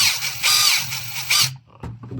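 Dagmara D18BID1 brushless cordless drill running at low speed, a close whirring whine in two short bursts before the motor stops and quiet handling sounds follow.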